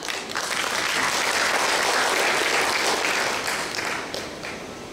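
A forum audience breaks into dense, sustained applause that stays strong for about four seconds, then tapers off slightly near the end.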